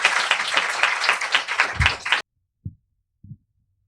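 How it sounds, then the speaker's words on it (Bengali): Audience claps loudly and densely in honor of Vijay Puja at a talk on Indian art, then the applause cuts off abruptly, followed by two brief low thumps in silence. "তাই বিজয় পূজার জন্য আরেকবার জোরে করতালি দিন।"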